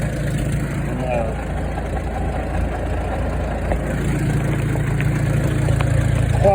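An old 1949 Farmall OM tractor with custom hydraulics idles steadily nearby, a low, even engine drone running throughout with slight rises in level and no clear speech.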